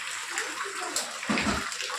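Floodwater sloshes and splashes around a house, a steady close wash of churning water with a brief heavier splash midway.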